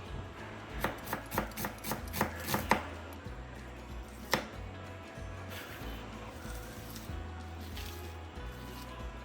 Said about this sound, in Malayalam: നമുക്ക് റൈസിലേക്കും കുറച്ച് സവാള കട്ട് ചെയ്തെടുക്കണം